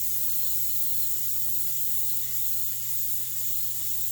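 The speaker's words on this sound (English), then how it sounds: "I'm actually spraying on the template and just kind of pushing it out to brighten that up" An airbrush or spray gun hisses steadily and close up as paint is sprayed through a template onto a Chevelle's body, a continuous airy rush that never pauses.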